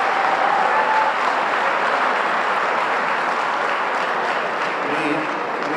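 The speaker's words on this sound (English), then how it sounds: "one more round of applause for our legacy businesses" An audience at the 2023 Legacy Business Awards Reception breaks into sustained, dense applause that fills the room and holds steady for several seconds before easing slightly.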